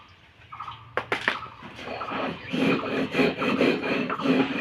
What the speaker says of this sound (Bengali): আমি শিলনোড়াতে বেটে নিচ্ছি